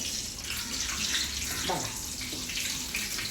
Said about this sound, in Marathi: आता हात धुवून घेते